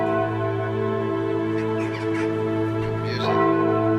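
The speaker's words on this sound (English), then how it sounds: "they're doing a ceremony with the bells" Bells ring out during a ceremony in England, a steady sustained chiming with layered tones and some faint background activity, moderately loud throughout.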